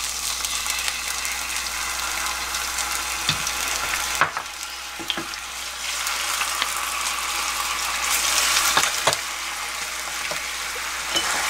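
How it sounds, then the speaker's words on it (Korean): Chili flakes stir-frying briskly in a pan for spicy braised tofu, a steady close sizzle broken by occasional scraping knocks of a utensil against the pan. "근데 재빨리 볶아줍니다"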